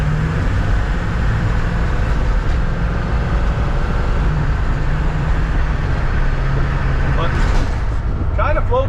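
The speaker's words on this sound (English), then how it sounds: "let me know if you guys can hear the turbo spool up" A Hummer H1 turbo diesel accelerating, heard from inside the cabin as a loud, steady low engine and road drone, with a faint rising whistle of turbo spool emerging briefly near the end.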